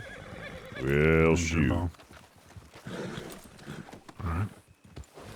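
A horse in the Red Dead Redemption 2 roleplay gives one loud, close whinny, followed by softer hoof clip-clops, with someone speaking briefly.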